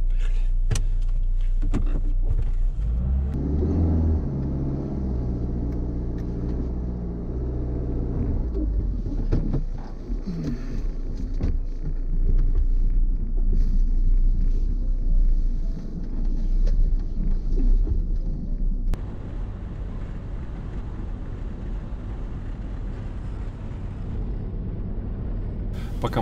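Heard from inside, a car drives along a road with a continuous low engine and road rumble, marked by scattered knocks and rattles throughout.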